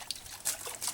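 Water trickles and splashes onto plant leaves during watering, a short, soft, close pour with a few brighter splatters.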